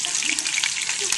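Meatballs frying in a pan, a steady broad hiss of sizzling oil with small crackles and pops, close and fairly loud throughout with no talking.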